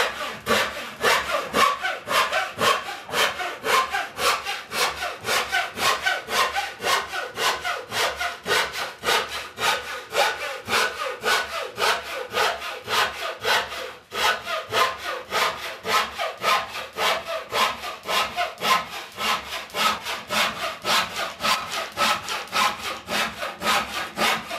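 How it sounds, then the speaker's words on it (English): Draw knife shaving the wood of a chair seat bowl during carving, a fast, steady run of rhythmic rasping strokes that continues for over twenty seconds, close and fairly loud with no talking. "I'll straighten it out with the draw knife."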